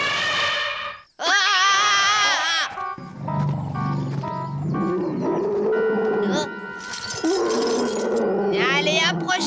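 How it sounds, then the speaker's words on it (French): Cartoon dog howling in long wavering cries, then barking over music and voices, loud and close throughout; people talk around the animal sounds. "Tiens, voilà le chien de ce pauvre Mozart."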